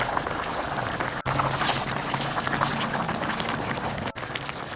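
Pork sinigang broth bubbling at a steady boil as okra and mustard greens go into the pot, a continuous dense rolling burble of liquid with no talking.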